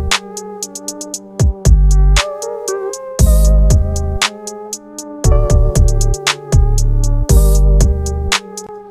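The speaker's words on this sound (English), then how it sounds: "basically what I did with the kick is I just added a kick hit on each of the 808 hits" Hip-hop beat remaking a hip-hop song, punchy kicks stacked on each deep 808 hit alongside crisp hi-hats and a melodic synth line, loud, steady rhythm with no voices.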